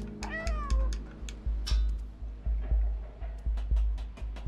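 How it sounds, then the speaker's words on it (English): A cat character in the video game Stray meows several times in a row, a close, clear series of short cries over faint game background and rhythmic soft thuds. "I like that the game reminded me I could meow too."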